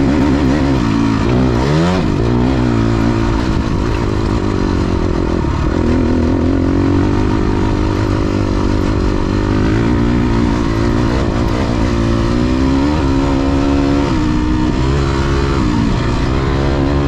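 A ported Honda CRF250X dirt bike bored to 270cc, with a hot cam and Lectron carburetor, is ridden. Its engine drones steadily and loud throughout, revving up and down under load, with no voices.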